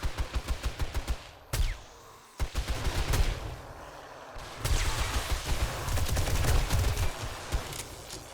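Rapid bursts of automatic gunfire from a zombie-horde battle in the survival game 7 Days to Die, loud and close, broken by short pauses between volleys.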